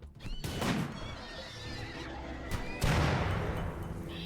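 Horses neigh and whinny loudly in the RimWorld video game, with clip-clop hooves and galloping across the scene; a second burst of neighing and rushing sound swells near the end.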